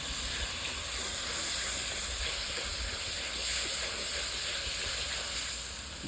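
Mashed roasted eggplant bharthu sizzling in desi ghee over a village clay stove, giving a loud, continuous hiss that swells and eases slightly for the whole stretch.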